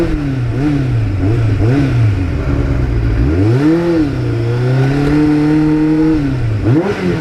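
A Kawasaki Ninja 750 sport bike, a mid-sized 1980s model, rides along Route 80 with its engine steadily droning and rising and falling in pitch as the rider rolls the throttle on and off. It stays loud and close throughout, with no talk.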